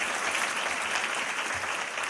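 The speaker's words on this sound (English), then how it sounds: "So let's give them all a big round of applause." A luncheon crowd claps steadily, a dense wash of applause with no voices on top.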